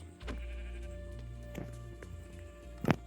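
A sheep in the video game Minecraft bleats: a sustained synthetic bleat at the start, shorter ones later, and a sharp click-like burst near the end, all over a low steady game hum.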